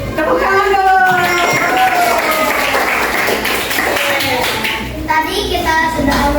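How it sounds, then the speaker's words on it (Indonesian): Children clap their hands together in a classroom in a lively burst of applause, close and loud, mixed with excited children's voices chanting and talking over the claps. "Tepuk tangan dulu."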